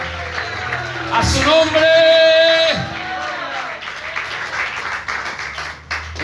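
Congregation at a Spanish-language church service breaks into applause for about two seconds, with a shout or whoop rising over the clapping, while a preacher keeps talking before and after.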